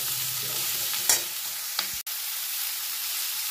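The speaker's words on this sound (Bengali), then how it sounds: "সবজিগুলো নাড়াচাড়া করে" Vegetables with salt and turmeric are stirred in a frying pan, a faint low sizzle with a couple of sharp scraping knocks near the middle before the sizzle settles again.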